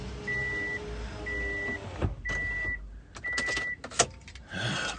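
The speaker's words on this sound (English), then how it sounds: "Let my windows up." Car power windows whir upward in several short electric motor runs, interspersed with beeps, clicks and thumps inside a parked car, with no talking.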